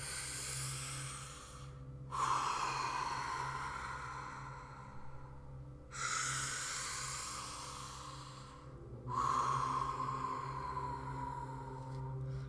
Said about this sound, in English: breathing in completely through your mouth, through your lips, through the tiniest hole in your lips, as if you're drinking through a straw, breathing in and out